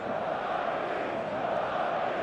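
A large stadium crowd in the eFootball 2026 video game keeps up a dense, continuous roar of cheering and chanting on match day, loud and steady throughout with no break.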